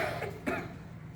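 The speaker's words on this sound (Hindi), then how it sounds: "अगर तुम्हें खांसी आती है तो किस प्रकार खांसेंगे?" A child gives a short demonstration cough during a school assembly lesson on hygiene, two quick, close coughs with no talking.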